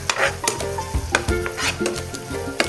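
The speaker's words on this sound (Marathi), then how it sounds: "पुन्हा आपण याला दह्याला आणि कांद्याला पुन्हा परतत राहू" Onion and curd stir-fried over a high flame for crispy curd okra, giving a busy sizzle broken by repeated scraping and clanking of a spatula against the pan at a quick, uneven rhythm.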